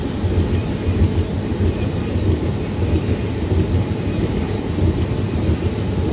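The Basava Express runs on a parallel track alongside a moving train, a loud, continuous low rumble of wheels and carriages with steady, even rattling throughout.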